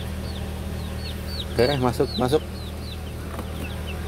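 Young pet chickens, coloured like egg-laying hens, cluck in a brief burst up close, with high chirps scattered throughout and a person speaking briefly.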